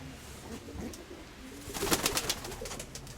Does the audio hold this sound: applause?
no